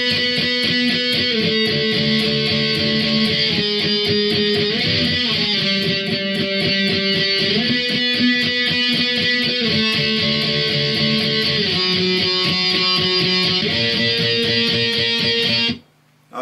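Electric guitar plays the chorus, strummed chords in a steady driving rhythm, loud and close and alone, stopping abruptly at the end.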